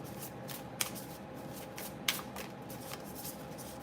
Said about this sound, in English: So we're gonna shuffle.